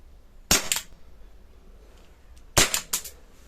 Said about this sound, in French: J'enlève la sécurité et on va voir si le blowback fonctionne.